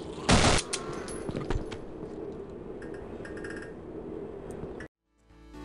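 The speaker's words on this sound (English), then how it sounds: "A shotgun?!" Shotgun blast in Afraid of Monsters: Director's Cut, one loud close boom near the start followed by a few smaller shots and metallic clinks over a steady game drone, ending in sudden quiet.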